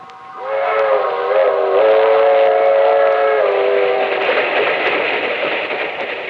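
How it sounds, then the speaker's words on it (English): A loud passenger train whistle sounds a long sustained chord, shifting pitch slightly, over the rumble of the passing train on the rails. "clicking off the miles on the humming rails"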